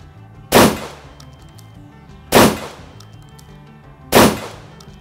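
Three loud, sharp gunshots ring out at a shooting club range, evenly spaced about two seconds apart, each with a short decaying echo.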